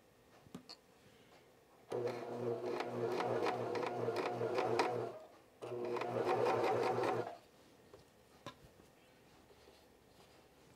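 A cover stitch sewing machine with a binding attachment stitches elastic in two loud, steady runs of rapid mechanical whirring, split by a short pause, with quiet handling clicks before and after.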